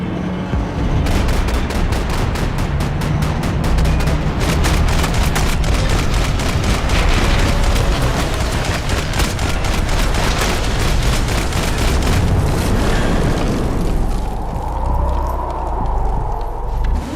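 Rapid bursts of gunfire fill a shootout in the video game Max Payne 3, loud and sustained, with heavy booms underneath and faint game audio near the end.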